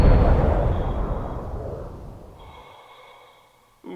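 A weapon shot fired at armored airlock plating in the space survival game Breathedge: a loud, heavy blast opens the clip, then its rumbling tail slowly fades over a few seconds before a brief new sound at the end.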